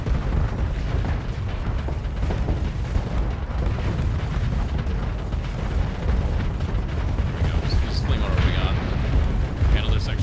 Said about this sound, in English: I'm just gonna fling every missile we have